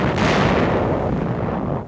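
Japanese 5-inch coastal guns firing at fleet units offshore in a 1945 wartime newsreel, a single heavy, loud boom with a long rumbling decay.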